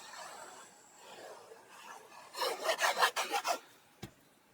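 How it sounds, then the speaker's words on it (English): Burnishing a glued paper flap onto a decorated Christmas recipe album: quiet rubbing at first, then a quick run of about six rasping back-and-forth strokes, close and distinct, ending with a single light tap. "And just pop that down and burnish it really well, like so."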